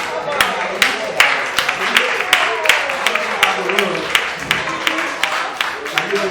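An audience at an entrepreneurship meeting of businesswomen gives a round of rhythmic applause, steady loud claps mixed with crowd noise and voices throughout.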